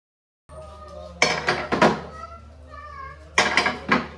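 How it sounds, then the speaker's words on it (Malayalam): Dishes and cutlery clink while a home kitchen is cleaned, with two bursts of clattering separated by a quieter stretch of faint kitchen noise and a low steady hum. "ഇനിയിപ്പോൾ കിച്ചണും കൂടി ഒന്ന് ക്ലീൻ ചെയ്യാണ്"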